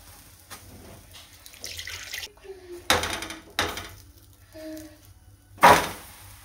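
Potatoes rinsed under a running kitchen tap, the water splashing in short uneven gushes with clunks of handling between them, close and moderately loud.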